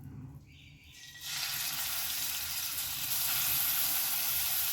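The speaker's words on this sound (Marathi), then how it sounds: "आता आपण हे 3 ते 4 मिनिट छान परतून घेणार आहोत." Grated carrot sautéing in ghee for carrot kheer: a quiet start, then a steady bright sizzle that swells around one second and holds loud and even, with no talk.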